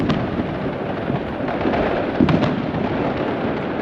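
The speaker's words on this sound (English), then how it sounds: "他们在那里放炮" Firecrackers set off outdoors for a store's grand opening in a Chinese-speaking area, a dense continuous crackle of small bursts with a few louder pops, steady and fairly distant-sounding throughout, with no talking.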